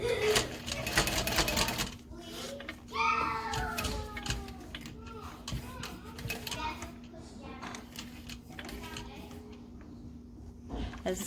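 A sewing machine stitches through thick layers of a backpack in short bursts of rapid clatter, with a pause between runs, while a cat meows and people talk nearby.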